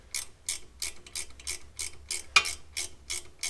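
Spanner ratcheting on the nuts of a Mitsubishi Triton CV joint, a quiet run of evenly spaced clicks about three per second with one sharper metallic knock, close and without voices.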